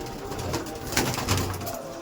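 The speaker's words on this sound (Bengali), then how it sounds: "পায়রাগুলো দেখুন কত ছটফট করছে বা কত ওদের ডিস্টার্ব হচ্ছে যে আমি এসছি এখানে" Madrasi tournament pigeons stir in a loft, giving soft low coos and brief wing flutters at close range, fairly quiet over a steady background.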